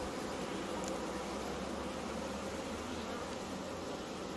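Honey bees swarm around hives at an organic heather-honey apiary, a dense, steady buzzing drone that fills the air evenly and continuously with no voices.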